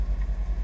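Ford Edge engine idling with the hood shut, a steady low rumble with a faint rhythmic pulse under light wind noise, no talking.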